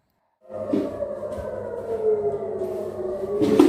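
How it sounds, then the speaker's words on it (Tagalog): A loud air raid siren starts abruptly and holds a steady, droning wail, swelling slightly toward the end. "Pagkarating ko, tumunog agad ang sirena."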